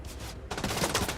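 Video game gunfire aimed at the player in Cyberpunk, a dense continuous rattle of rapid shots with a brief dip before the volume swells again, loud and close.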